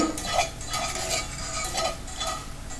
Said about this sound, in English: Keep sauteing it and roasting. The cast iron gives a nice golden brown crust on the outside.